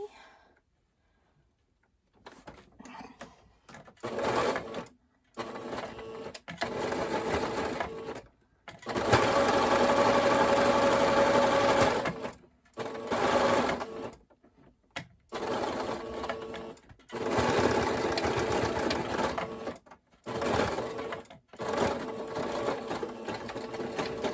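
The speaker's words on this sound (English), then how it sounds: "So I'm just going to go ahead and sew that very quickly." A sewing machine zigzag-stitches the edge of a fabric wrist cuff in several bursts of steady whirring, each a few seconds long and separated by short pauses, close and fairly loud.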